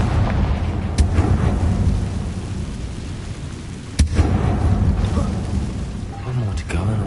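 Blasting curses from the Confringo spell in Hogwarts Legacy burst as sharp explosions, with two distinct booms standing out against a rumbling background of game noise.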